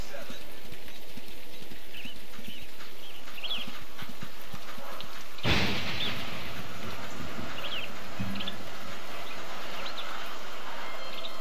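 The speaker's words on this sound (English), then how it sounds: "Oh, it's raining." Steady rain falls in WolfQuest 2.7, a soft, even hiss filling the scene from start to finish, with one sharp, loud burst about halfway through and faint higher chirps scattered above the wash.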